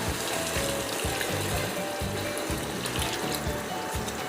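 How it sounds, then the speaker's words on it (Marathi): Water streams steadily into two cups of rice, about four cups in all, for Maharashtrian masale bhat, a continuous close pour over a faint rhythmic low thudding in the background. "आपण आता यात 4 कप पाणी टाकून घेऊ।"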